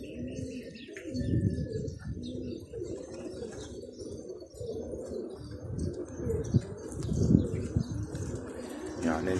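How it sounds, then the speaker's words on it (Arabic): Domestic pigeons coo in low, rolling phrases with a soft burst of wing flapping, close by and fairly steady, while faint chirps sit in the background and a person is heard nearby. "بس في طير من حمامه بفلت."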